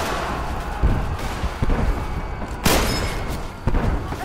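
Gunfire in the Roblox war game Centaura: four sharp, loud booming shots spaced roughly a second apart, each with a short thudding tail, over a continuous rumbling battlefield background.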